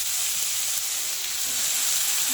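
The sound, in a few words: banana stem added to hot pan, sizzling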